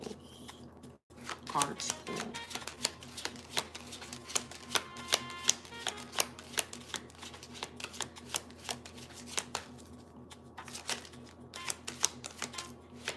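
Playing cards are shuffled for a tarot-style card reading, giving a long run of quick crisp riffling clicks and flutters, close and steady, with a voice talking softly underneath.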